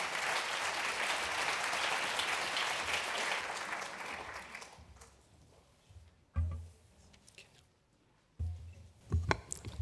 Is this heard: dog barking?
no